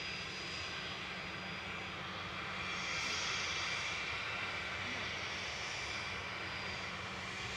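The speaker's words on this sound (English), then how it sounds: "This is VistaJet Germany's flight 724, Embraer Legacy D8I RG." VistaJet Germany Embraer Legacy business jet roars steadily in the distance, its engine noise swelling slightly midway before holding at a constant faint level, with no talking.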